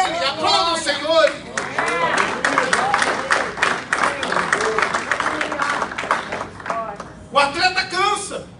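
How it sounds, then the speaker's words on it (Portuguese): Congregation in a church service clapping and cheering together, a dense wash of applause with raised voices and shouts layered throughout, loud and close, briefly easing before swelling again at the end. "Aplauda o Senhor."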